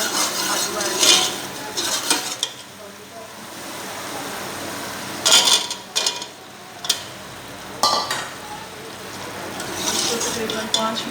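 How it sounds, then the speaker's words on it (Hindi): Green chilies and potatoes frying in oil in a pan, giving a steady sizzle with several bursts of scraping and stirring from a utensil, loud and close, under spoken narration. "2 मिनट भूनने के बाद आलू ऐड करेंगे।"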